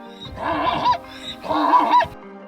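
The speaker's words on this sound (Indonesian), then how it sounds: "Sementara zebra punya suara yang lebih nyaring dan keras" A zebra's loud, shrill call rings out in two braying bursts, each a rising and falling harmonic whinny with a squealing peak, separated by a short pause, close and clear with no talk.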